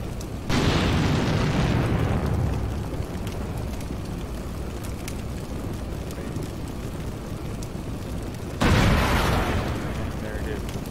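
Enemy tanks blown up in a combat video game set in a Dutch campaign: two heavy, rumbling explosions several seconds apart, each a loud boom that decays slowly into a low battlefield drone.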